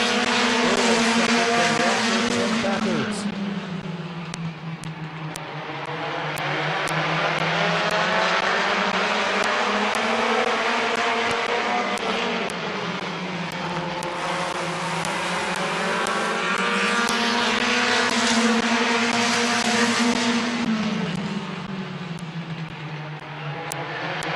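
Race cars roar around the oval at Midvale Speedway, loud and continuous, their engine pitch swelling and dipping in long waves as the pack passes through turns, with no clear talk over it.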